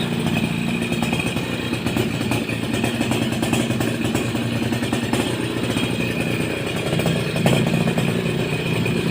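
A Suzuki RC100 motorcycle engine idles smoothly and steadily at close range, a continuous even putter with light mechanical clatter and no voices.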